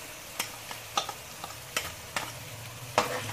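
Ginger garlic paste frying in a pan with light-browned onions for an egg curry masala, a soft steady sizzle broken by several sharp scrapes of a stirring spoon, fairly quiet and without voices.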